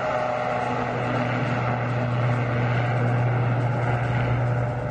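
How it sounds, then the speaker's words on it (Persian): The Gaza military drone takes off and flies with a steady propeller drone, a constant loud buzzing hum that holds without a break. "پهپاد غزه برای انجام مأموریت خود در آزمایش مشترک به پرواز در می آید"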